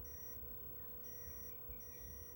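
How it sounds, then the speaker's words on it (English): Short electronic beeps from a continuity tester checking the wiring on an old, battered Bendix radio; three thin steady tones come and go over a noisy background. "You can hear the beep."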